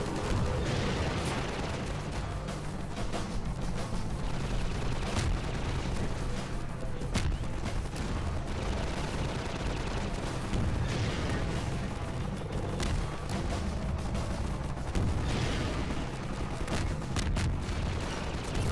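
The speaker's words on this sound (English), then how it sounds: "And now we switch to the rocket launcher" A rocket launcher fires in the Half-Life 2 video game, making loud booming blasts and rumbling explosions that come in close succession over a dense, continuous din of battle.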